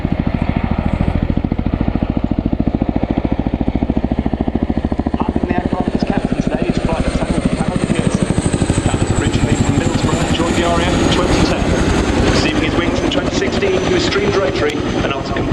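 An RAF Chinook helicopter flies a display at the RIAT airshow with a loud, close, continuous rotor thump and turbine roar, heavy low beating and a rising whine, filling the whole stretch while a commentator talks over it.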